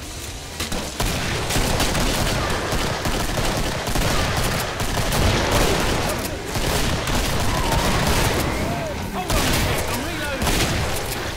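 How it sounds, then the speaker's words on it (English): Dense, continuous gunfire and grenade blasts in the Killing Floor video game form a loud, unbroken fusillade of shots and booms, with a voice talking through the chaos. "Shoot some bullets. Throw a grenade in there."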